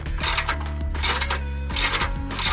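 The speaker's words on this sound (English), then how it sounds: "I'm gonna start loosening this, remove this bolt out" A ratchet loosens a suspension bolt during a Chrysler Crossfire SRT6 spring install, making rapid clicking bursts in several quick strokes over a steady low mechanical hum, close and fairly loud.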